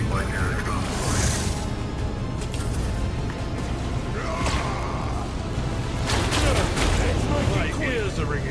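Gunfire rattles through a Warhammer 40,000: Rogue Trader battle, bursts of shots and mechanical clanks mixed with whooshes and game voices over a dense, continuous combat bed.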